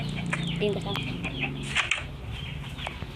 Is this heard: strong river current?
no